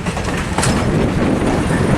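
A train rolls along the rails at the Orange Empire Railway Museum in Perris, California, with a rhythmic clickety-clack and rumbling wheel noise, heard close and steady.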